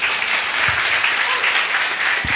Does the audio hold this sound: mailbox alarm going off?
no